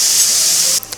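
Hot oil sizzles loudly as ginger, green chilli and turmeric are tempered for pav bhaji, a sharp, steady hiss that cuts off abruptly near the end.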